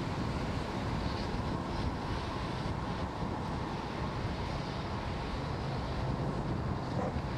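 A SpaceX Falcon 9 rocket's Merlin engines roar during launch, a distant, continuous deep roar with a broad crackling rumble, steady and unbroken for several seconds, with no voices.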